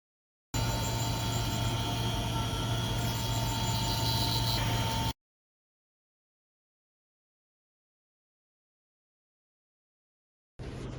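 A Qiandao GD 01A machine runs its knife feed with a steady, loud mechanical drone and hum for about five seconds, then stops into silence before briefly starting again at the end.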